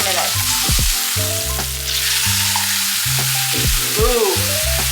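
A Japanese A5 wagyu steak sears in a hot pan just after being flipped, a loud continuous sizzle under prominent background music with a stepping bass line.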